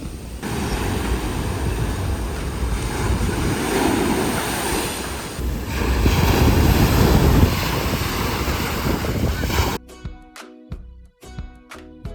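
Ocean waves break steadily on a Bali beach with a coral reef offshore, rolling in loud, sustained surges with wind buffeting the microphone. The surf cuts off near the end, where sharp intermittent tones take over.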